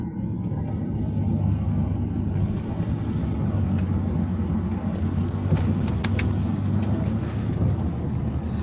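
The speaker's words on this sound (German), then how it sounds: "Jetzt fahren wir mal hier rum, weil ich wollte jetzt nicht auf der Hauptstraße rumeiern da." Interior of a car driving along quiet side roads on a wet day near an oldtimer meet, with a steady low engine and road rumble plus wind noise throughout and no talking.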